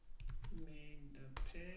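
Quick taps on a computer keyboard, a short burst of several keystrokes close by, with a brief murmur of voice in the background.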